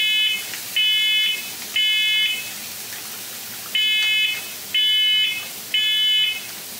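A kitchen smoke alarm shrills in a run of regular electronic beeps, each about half a second long, loud and insistent, over quiet frying in a pan as mussels cook in a white wine butter sauce.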